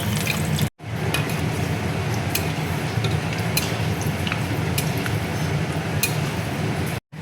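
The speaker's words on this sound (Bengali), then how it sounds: "তেলের মধ্যে দেখো এবার আমি মেথি দিয়ে দিচ্ছি। শুকনো লঙ্কা দেখো ফোড়ন দিয়ে দিচ্ছি।" Fenugreek seeds and dried red chillies sizzle steadily in hot oil, a close, continuous hiss with scattered crackles and small pops that runs unbroken for several seconds.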